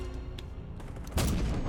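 A sudden loud gunshot blast in Detroit: Become Human cuts through a low ambient scene and rings out with a sustained noisy tail.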